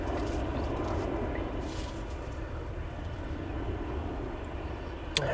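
A TUI airliner in plain livery at Manchester Airport gives off a steady, moderately loud jet roar that holds evenly throughout, with a brief sharp click near the end.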